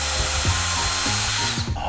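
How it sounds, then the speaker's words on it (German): A power drill whines steadily up close as it bores into and through a metal screw while a TV mount is being fixed up high, its pitch wavering and catching under load for about two seconds. "Ich versuche mal durch die Schraube durchzubohren, das scheint mir sinnvoll jetzt."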